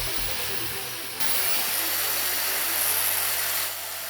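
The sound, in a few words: 220 volt angle grinder running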